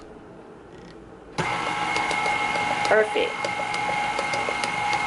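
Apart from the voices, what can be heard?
KitchenAid stand mixer mixing cake batter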